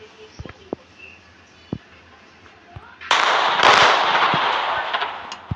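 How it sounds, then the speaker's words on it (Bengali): A cannon fires at a dinosaur in a 3D mobile game, a few soft clicks and taps first, then one sudden loud blast that rolls into a long, roaring burst and slowly fades. "এটাকে কামান দিয়ে উড়িয়ে দেবো।"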